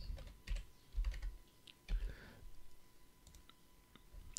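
Computer keyboard keystrokes and mouse clicks while using Blender shortcuts, a handful of sharp, close taps with uneven gaps between them, alone in a quiet room.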